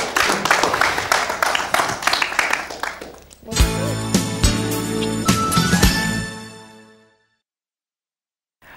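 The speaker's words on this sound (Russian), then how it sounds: "Аплодисменты!" Audience applause at a youth stage show breaks out after a spoken segment, with dense clapping building then tapering off and fading to silence near the end; talk precedes the clapping.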